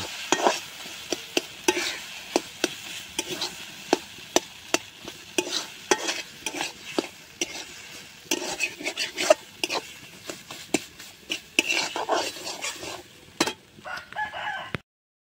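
Tomato and potato bharta is stirred and mashed in a pan with salt. Quick, close scraping strokes and sharp taps of the spoon against the metal repeat fairly rapidly, continuous and alone, with no talking.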